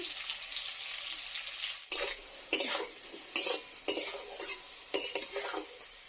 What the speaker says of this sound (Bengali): একই তেলে আমি পেঁপে ভেজে নেব